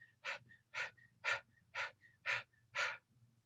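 Rapid, rhythmic panting by people in a workshop setting: six sharp breathy exhalations at an even half-second pace, close and clear over a low background hum, with no talking.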